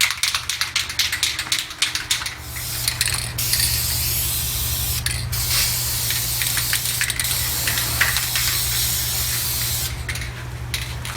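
Aerosol spray can painting engine parts in a 1970 Ford LTD engine bay, a steady close hiss running almost without break, interrupted by a few short pauses and sputtering bursts at the start.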